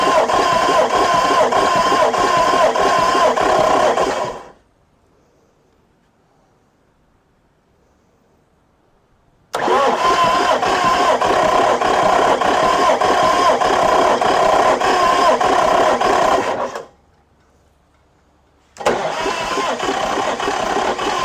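Big Cam Cummins diesel engine turning over and running loud and close in two long bursts, cut off by stretches of silence between them.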